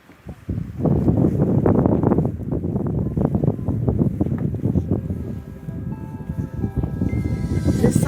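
Gusty wind on a snowy winter mountain buffets loudly and close, a rough, continuous rush with irregular thumps and rustling that begins abruptly after a brief quiet start.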